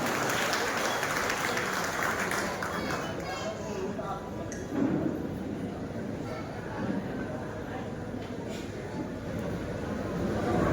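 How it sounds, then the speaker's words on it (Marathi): Applause from a crowd at a political party event in a village, a steady dense patter of clapping throughout at a moderate distance, with a few louder claps and voices mixed in underneath. "एका जोरदार टाळी आपण त्यासाठी."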